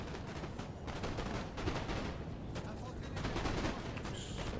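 Infantry musket volleys crackle through a Napoleon Total War battle, a dense, continuous rattle of overlapping shots with sharper bursts scattered across, steady in loudness from start to finish.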